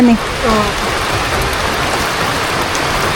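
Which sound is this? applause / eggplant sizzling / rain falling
rain falling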